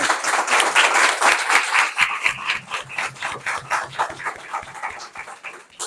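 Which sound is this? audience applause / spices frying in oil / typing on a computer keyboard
audience applause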